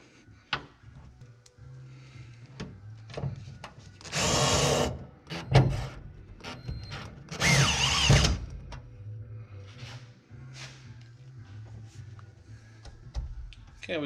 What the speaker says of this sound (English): And then we're going to put a screw in here.